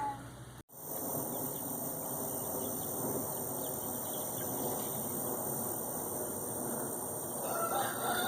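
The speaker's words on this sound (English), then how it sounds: "And the roosters all want to talk to me." Roosters crow on a small farm with a chicken tractor, their calls steady among clucking fowl, fairly faint and distant against a quiet evening background with a constant high whine.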